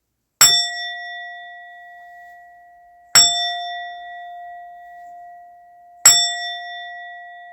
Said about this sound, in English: So I'm going to go ahead and ring the bell.